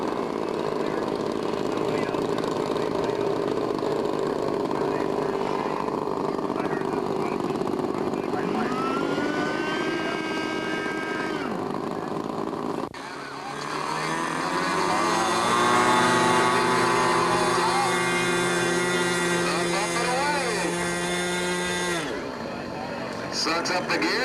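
A radio-controlled model airplane engine buzzes in flight at a steady high-pitched drone, rising and falling as the plane passes and banks, with someone speaking over it.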